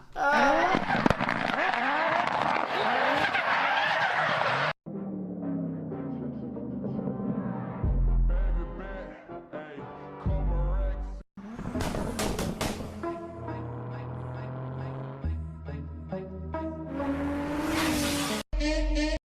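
A car engine revving with tire squeal and skidding, loud and close, followed by changing bursts of mixed sounds and music-like tones with abrupt cuts.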